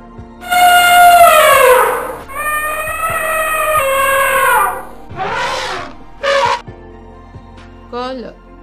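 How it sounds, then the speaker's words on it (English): An elephant trumpets in two long, loud, brassy blasts with rich harmonics, followed by a few shorter, quieter calls. "Elephant trumpets."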